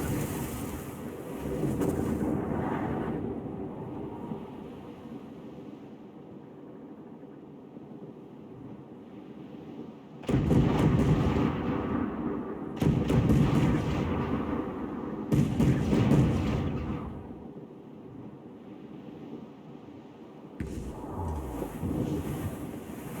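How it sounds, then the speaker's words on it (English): Enemy ship cannon fire in Assassin's Creed IV: Black Flag, heavy booming blasts in several loud bursts over a rumbling sea-and-wind background. "They are firing, sir! We be touched! Enemy fire!"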